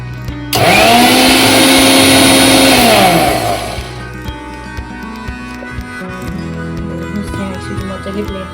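A kitchen blender whirs loudly through a homemade mango ice cream mixture, surging up abruptly, holding a steady high whine for about three seconds, then winding down into quieter clattering and handling noises.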